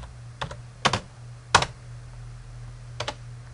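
Sparse keystrokes on a computer keyboard click close and clear, a handful of separate taps spread out over a few seconds against a low steady hum.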